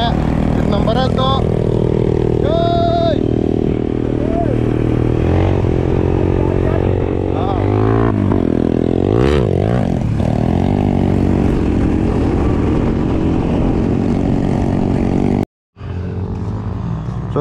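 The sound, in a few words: motorcycle being ridden at rally practice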